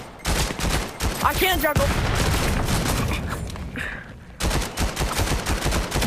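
Rapid gunfire bursts from the Valorant video game crackle through the whole stretch, loud and dense, with a short pause before the shooting resumes. A player talks briefly over the shots.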